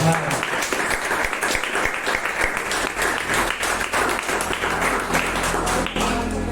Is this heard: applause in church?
yes